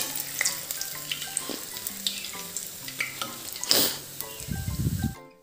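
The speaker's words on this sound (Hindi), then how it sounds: "इसे हल्का सा गोल्डन ब्राउन होने तक हम दोनों साइड से पलटते हुए इसे छान लेंगे" Kachoris made from radish and rice flour deep fry in hot oil, giving a steady crackling sizzle with scattered pops and one louder burst, followed by a deeper bubbling stir near the end, with no talking.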